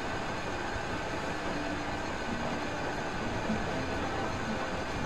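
A train rolling by in the video game Sly 4: Thieves in Time, heard as a steady, continuous rumble and clatter that keeps an even level the whole time.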